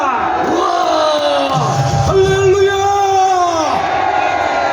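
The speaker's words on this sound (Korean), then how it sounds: "큰 박수 부탁합니다." A crowd at a Korean national-security civic groups' rally cheers and shouts loudly, with voices calling out over the roar and a steady, dense swell of noise filling the whole stretch.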